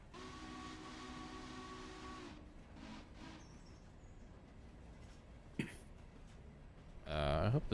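Steam locomotive in the Railroader train simulation game starting to accelerate, a sustained steam whistle tone for the first two seconds, then low rumbling running noise, a brief hiss burst near the end.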